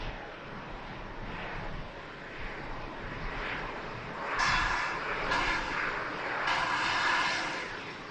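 An Airbus A380 powers up for a late go-around at Manchester Airport in strong winds, its engines a broad steady roar that swells louder midway and holds, with gusty wind buffeting the microphone.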